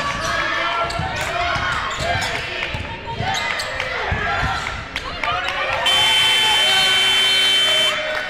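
A buzzer ends the first half of a Tabor College vs Southwestern College women's basketball game, blaring loud and sustained over the final seconds after crowd noise and ball bounces, with an announcer talking.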